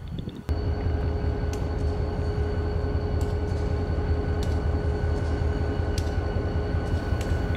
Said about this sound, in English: Number 3200 is an EMD GP40-2 locomotive built in 1967 for the MKT.